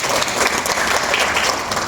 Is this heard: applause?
yes